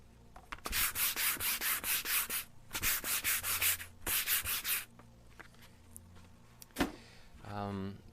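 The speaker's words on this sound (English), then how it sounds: "probably can't hear me while I'm sanding" Repeated rhythmic sanding strokes on an acrylic painting surface, loud and close, in three bursts of quick back-and-forth rubs, followed by quieter handling noises and a brief voice.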